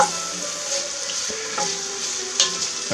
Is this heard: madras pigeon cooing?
no